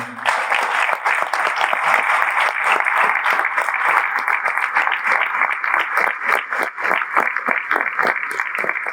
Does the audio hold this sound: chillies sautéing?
no